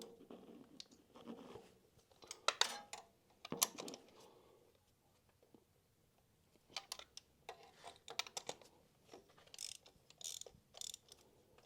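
A hand ratchet tightening spark plugs on a Vauxhall Astra 1.6-litre engine: irregular bursts of quick clicking and metallic ticking, close up, separated by short quiet pauses, no speech.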